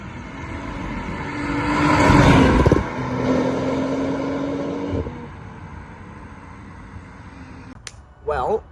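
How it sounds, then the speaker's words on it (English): A BMW 440 fitted with a Valvetronic exhaust revs, rising to a loud swell of engine and exhaust roar before easing into a steadier drone, with a brief sharper burst near the end. "that's what the exhaust sounds like"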